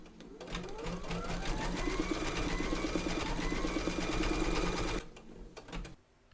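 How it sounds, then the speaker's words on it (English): An embroidery machine stitches appliqué letters in the hoop, a fast, close mechanical whirring with rapid needle clatter that runs steadily for about five seconds and then stops, leaving a few faint clicks. "Pop your hoop into your machine and stitch round number 3 to secure them."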